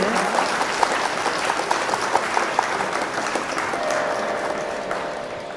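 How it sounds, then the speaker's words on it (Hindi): An audience claps at the inauguration of a qawwali competition in Khatauli, with dense, lively applause and a few sharper individual claps standing out. The clapping is steady and then thins slightly toward the end. "एक बार जोरदार तालियां बजा दें"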